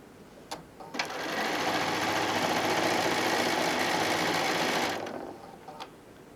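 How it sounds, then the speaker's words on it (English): A sewing machine runs steadily for about four seconds, stitching across a quilt-as-you-go cosmetic bag, with brief taps before and after the continuous whirring run. "And again, just going to sew across."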